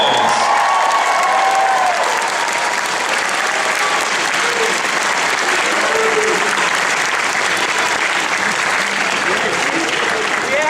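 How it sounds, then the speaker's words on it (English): A packed anime convention Q&A audience at Otakon breaks into loud, sustained applause for a birthday, with cheers and voices mixed into the continuous clapping. "Happy birthday to Dave, the sound guy. A big round of applause."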